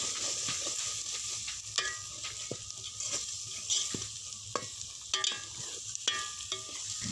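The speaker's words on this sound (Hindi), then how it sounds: "अपने मसाले को अच्छे से हमने भूनना है।" Red chilli powder, salt, turmeric and cumin fry in oil for an egg and onion curry, sizzling softly while a spoon stirs with repeated scraping taps against the pan.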